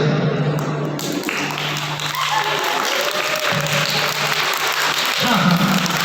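Children at a summer-camp magic show clap together in a steady, dense burst of applause that fills the whole stretch, loud and close, with a few voices and a low hum running underneath.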